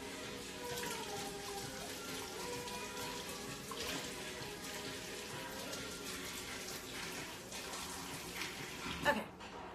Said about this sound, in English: I'm gonna rinse out my little spoon because it's got like gross steak stuff in